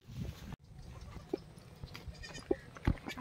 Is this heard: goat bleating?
yes